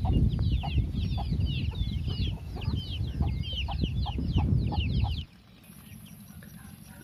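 Naked neck chickens cluck and chatter close by in a rapid, repeated series of calls over a busy farmyard background, then the sound drops away abruptly to quiet for the last couple of seconds.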